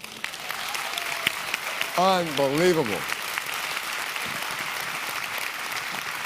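Applause from a crowd, steady clapping throughout, with a single spoken word briefly heard over it.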